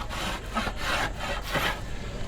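A hand tool scrapes and shaves a wooden bow in slow, rhythmic strokes, each pass a dry rasping rub, close and alone without talk.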